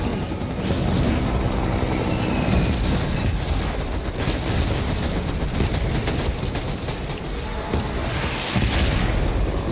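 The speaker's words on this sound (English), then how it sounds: "That's explosion." Heavy explosion in the video game Death Stranding, a dense, loud roar of booming blasts and crackling debris sustained for about ten seconds without speech.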